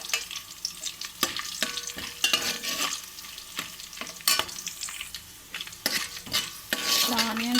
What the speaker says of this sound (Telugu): మర్చిపోయానండి, కొంచెం జీలకర్ర వేసుకుందాము.